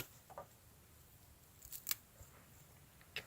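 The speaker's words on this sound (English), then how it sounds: "let's go ahead and do our rope cut with that recurve blade" Camillus G-Hammer knife with a recurve blade slicing through rope: a few short, crisp fibrous snips and cuts, fairly quiet and close, spaced over a few seconds with no talking.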